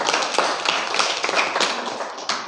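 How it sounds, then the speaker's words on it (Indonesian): Classroom audience clapping for a student named Zidan, a dense burst of hand claps from a small group, fairly close and steady, easing off toward the end. "beri tepuk tangan untuk Zidan"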